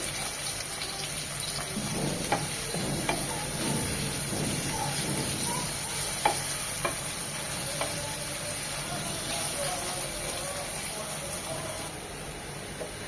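Onions frying in a pan for chicken bhuna, a continuous hissing sizzle with occasional light clicks and scrapes, close by, as someone talks over it.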